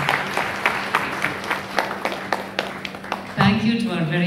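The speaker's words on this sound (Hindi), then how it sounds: "प्लीज तालियां बजाइए for all this beautiful queen's." An audience claps for women on stage at an event for acid attack survivors, scattered rhythmic claps at moderate level, then a voice speaking over music near the end.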